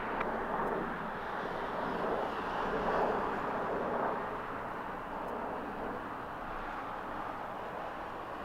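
A jet airliner takes off from runway 25 right at Los Angeles International Airport, heard as a steady, distant broadband engine roar that swells slightly midway and then holds.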